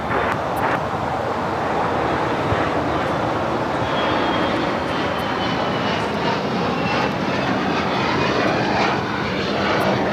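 Piper airplane taking off from runway 25 left at LAX, a steady, loud propeller-engine drone that holds throughout about ten seconds without any voices.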